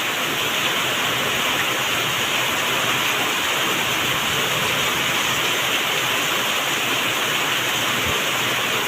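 Floodwater rushes steadily across a farm field planted with sesame and millet after crop-damaging rain, a loud, continuous broadband roar close by with no break and no voices.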